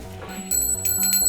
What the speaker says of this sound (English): Get the bell. Ring the bell.